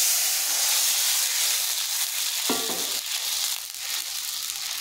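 Green chillies fry in oil in a pan, then water goes in, giving a loud, close, continuous sizzling hiss with a brief clink of utensils, no voices.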